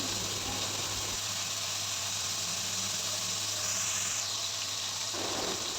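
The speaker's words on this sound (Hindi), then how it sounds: "हम इसे तेज़ आंच पे 1 मिनट अच्छे से फ्राई करेंगे।" Cubed chicken frying over high heat gives off a loud, unbroken hissing sizzle that stays steady from start to finish, with no talk.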